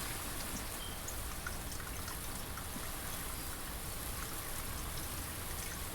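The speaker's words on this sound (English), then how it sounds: "Very casual rain sound effects." Gentle rain falls in the video game Blue Prince, a steady even hiss of drops and trickling water with no other sounds over it.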